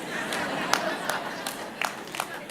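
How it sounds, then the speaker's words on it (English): A TEDx audience claps in light, scattered applause as a short patter of separate claps at moderate distance, thin rather than a full ovation. "Yeah, the women are clapping."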